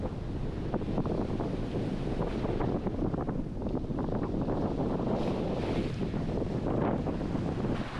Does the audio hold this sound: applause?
no